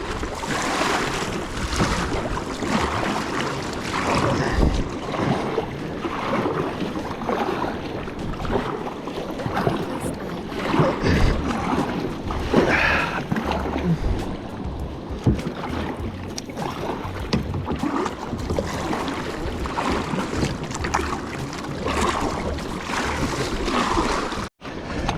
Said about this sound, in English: the swell's pretty big here, lads, but nothing my mighty kayak cannot handle